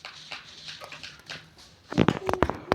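A dog whimpers and whines in a Minecraft game, faint thin cries at first followed by a louder cluster of yelps and scuffling sounds near the end.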